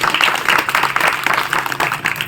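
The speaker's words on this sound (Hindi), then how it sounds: "ताली बजाओ" An audience claps together in a dense, loud, continuous burst of hand clapping.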